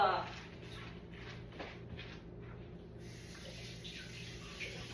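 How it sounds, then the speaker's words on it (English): Cold tap water runs steadily over vegetables being rinsed in a home kitchen while preparing soup stock, a soft continuous splashing rush under a speaking voice. "let me rinse this off"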